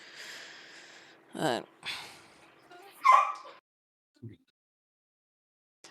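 A dog behind a counter gives a few short, sharp barks and yips in quick bursts, fairly close, separated by pauses, with someone talking nearby.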